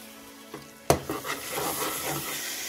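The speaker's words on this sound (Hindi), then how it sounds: "इसे अच्छी तरीके से मिक्स करते हैं" Carrot halwa being stirred with khoya in a pan, a spoon scraping and knocking against the metal with a sharp clack, then soft wet sizzling and mixing sounds, close up, with no talking.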